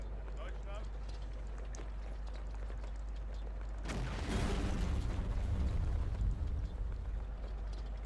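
A sudden loud blast with rolling, rumbling debris in the Hidden Stroke 2 war game, starting midway after quieter battlefield ambience, then decaying into a lingering roar.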